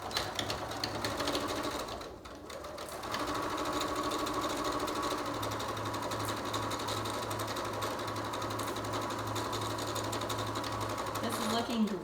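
Sewing machine stitching a complete circle around a pajama pant leg, a steady running buzz at close range after a brief pause, with a voice talking over it.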